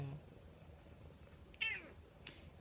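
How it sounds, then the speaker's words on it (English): A single faint, short cat meow sounds against a quiet room background, followed by a soft faint noise. "Here I am talking to a kitty cat"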